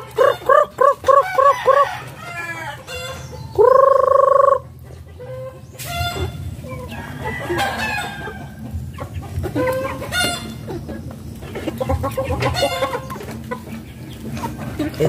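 Chickens clucking close by in a rapid rhythmic series, a rooster crowing loudly once, then scattered clucks and squawks from the flock over a low outdoor background.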